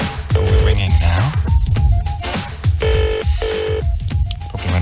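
A telephone ringing on an outgoing call, loud and close, with repeated bursts of an electronic ring tone separated by short pauses.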